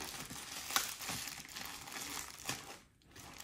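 Plastic packaging bags from a clothing order crinkle and rustle as they are handled and opened, a close, continuous crackling with a few sharper crunches and a brief pause near the end, no talk.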